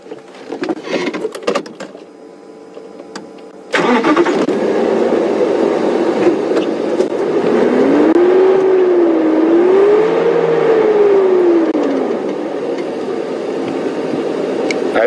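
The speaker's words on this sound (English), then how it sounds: "If you switch off, I'll give you a rev." A safari vehicle's engine starts with a sudden jump in loudness, then runs loud and steady, rising and falling in pitch as it revs twice before settling back to a rough idle.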